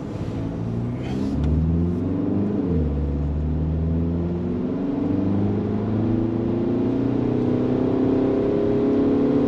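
A Volkswagen TDI car accelerates at full throttle on the Nurburgring, its engine drone rising steadily in pitch through gear changes, with a brief dip at a shift before climbing again, heard loud from inside the cabin.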